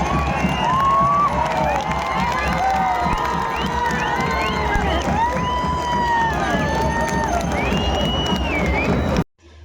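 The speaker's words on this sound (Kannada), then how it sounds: "ಅವಾಗ ಜನ ಎಲ್ಲ ಚಪ್ಪಾಳೆ ಹೊಡಿತಾರೆ." A large crowd at a temple festival claps and cheers continuously, loud and dense with shouting voices and whoops, then cuts off abruptly at the end.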